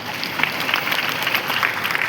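An audience at a church service claps in a dense, uneven patter of many hands, sustained and moderately loud for a couple of seconds.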